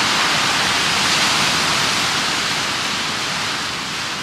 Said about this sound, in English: We see waves coming in here. These are great waves. They're beautiful. They're powerful.